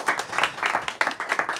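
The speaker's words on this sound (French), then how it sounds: "On peut vous applaudir." A small audience at a French village gathering claps for a local guest, steady moderate clapping with uneven rhythm, fairly close and continuous for under two seconds.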